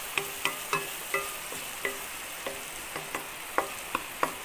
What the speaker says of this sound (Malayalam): തക്കാളി ജസ്റ്റ് നമ്മളൊന്ന് ഇതിലേക്കിട്ട് ഇളക്കിയെടുത്താൽ മതി